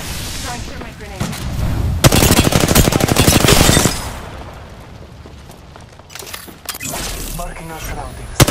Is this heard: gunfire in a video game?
yes